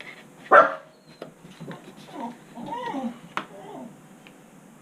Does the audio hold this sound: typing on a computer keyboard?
no